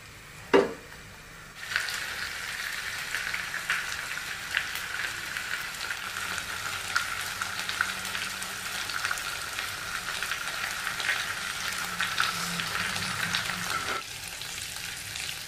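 Grilled chicken stirred in a hot pan with spice paste for ayam bakar taliwang, a sharp clatter and then a steady loud sizzle under repeated scraping stirs that stops abruptly near the end.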